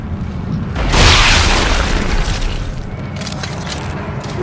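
A loud, deep boom from an explosive gun in the Dead Space 2 video game swells to a peak and then rumbles away slowly, with no voices.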